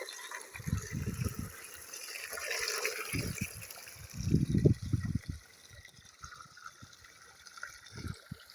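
Water gushing from a pipe into a farm field with methi beds, coming in uneven bursts of splashing and pouring, fairly faint with quieter gaps between surges.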